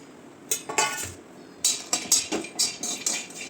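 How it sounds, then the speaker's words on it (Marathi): Cashews and walnuts dry-roasting together in a pan at home, heard as a series of sharp scraping clinks of a spatula against the metal in two bursts, close and fairly loud, with no talking. "त्यानंतर आपण काजू आणि अक्रोड दोन्ही सोबतच भाजून घेणार आहोत"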